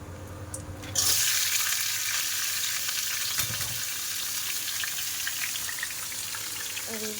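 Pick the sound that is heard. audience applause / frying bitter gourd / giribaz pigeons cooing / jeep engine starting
frying bitter gourd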